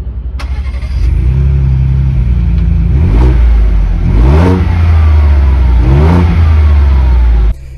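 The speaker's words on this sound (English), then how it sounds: "So we're going to turn this on really quick and listen to that Hennessy exhaust." A Hennessy VelociRaptor 400 Ford Bronco with a Hennessy exhaust cranks and fires up, settling into a deep rumbling idle punctuated by three throaty revs, loud and close, with no talking.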